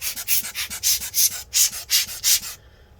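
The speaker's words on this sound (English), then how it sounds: "I'm just gonna brush all this dust out." A brush scrubs dust out of the cooling fan of a Dell XPS 13 9370 laptop in quick, rhythmic bristly strokes, about a dozen close sweeps that stop abruptly near the end, with no talking.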